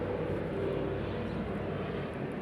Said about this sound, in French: Et au-dessus, il y a un hélicoptère qui passe.